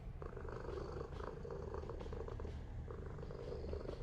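A ghost cat in a video game purrs steadily while being petted, a soft continuous rumbling purr at low volume with no talk over it.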